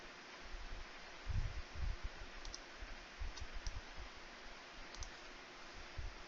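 Lord of the Rings card game deck being shuffled by hand on a tabletop, giving soft, close rustling and faint clicking card riffles with a few light thumps, quiet and steady with no voices.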